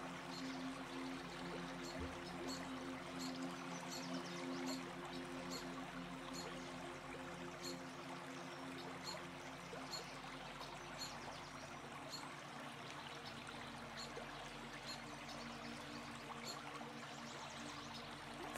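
Clear water flowing in a stream, a soft, continuous trickle and gurgle heard faintly and evenly throughout, with a low steady hum beneath and no voices.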